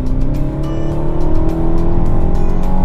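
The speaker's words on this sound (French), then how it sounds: "J'écrase la pédale." BMW 430i F32 accelerating hard with the pedal floored, a loud close engine roar rising steadily in pitch, continuous and unbroken with no talk.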